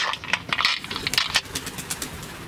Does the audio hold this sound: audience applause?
no